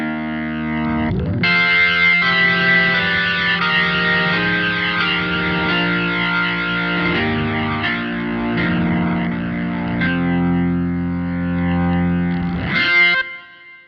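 Korg SV-2 stage keyboard played through an AC30 amp simulation with heavy drive, sustained gritty chords with chorus-like shimmer ringing out steadily, alone and fairly loud.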